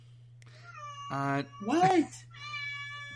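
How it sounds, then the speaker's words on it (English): A house cat yowls and meows loudly from behind a closed door in a back room, two long harmonic cries with a softer wail trailing off, while a person briefly speaks nearby over a steady electrical hum. "You can also hear my cat in the back yelling because the door's closed."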